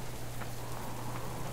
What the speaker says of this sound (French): je vois la pluie qui tombe